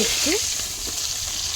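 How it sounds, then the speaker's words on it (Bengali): Pieces of rohu fish sizzle steadily in hot oil in a pan, a bright continuous crackle close by, with someone briefly speaking over it. "দেখুন মাছ সুন্দরভাবে ভাজা হয়ে যাবে"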